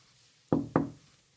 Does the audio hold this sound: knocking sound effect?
yes